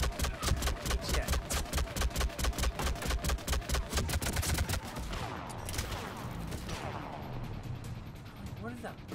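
Rapid bursts of gunfire from a Mass Effect 3 firefight, loud and rhythmic at first with dense repeated shots, then thinning into scattered blasts and crashes, with voices talking over the action.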